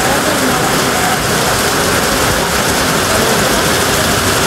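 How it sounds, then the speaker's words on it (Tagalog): Heavy rain pouring down at a grape farm in Bauang, La Union, a loud, dense, steady hiss of drops on surfaces that stays constant throughout, close by and with no break. "Naabutan kami ng ulan kaya nagsilong muna kami dito"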